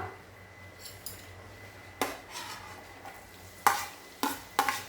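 Chopped onion going into heated oil in a pan for a corn masala dish, quiet sizzling punctuated by sharp scrapes and clinks of a utensil against the pan, several louder strokes toward the end, no voices.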